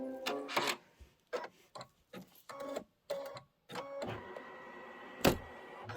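Embroidery machine stitching quilting on a pillow, running in stop-start bursts of rapid mechanical needle chatter, close and moderately loud, with a longer continuous run near the end.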